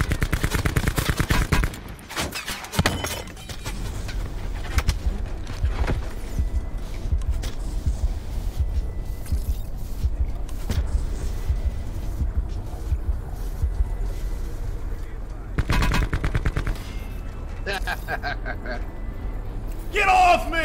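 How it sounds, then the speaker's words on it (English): Bursts of gunfire in the battle royale video game Call of Duty Blackout, loud shots and a rattling volley early on, then scattered fire under a steady game ambience, with another flurry near the end. "they're taking fire from the other team"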